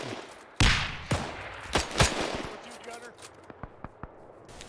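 Enemy gunfire crackles across a D-Day Juno Beach battle in a video game: a sharp loud blast, then scattered heavy shots and several lighter distant pops, with faint voices mixed in.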